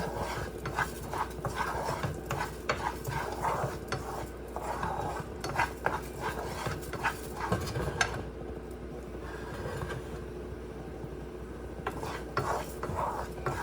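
Rice being stirred and toasted in a pan for arroz con pollo, a steady run of close scraping and clinking strokes from the spoon against the pan, repeating rhythmically with no talking.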